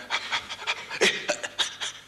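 A person imitates the panting of the Hechel breathing method taught to expectant mothers, giving a rapid series of short, breathy huffs in an uneven rhythm, close and fairly loud.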